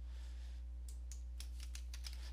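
Light keystrokes on a computer keyboard, a quick run of about eight faint clicks over a steady low hum, with no talking.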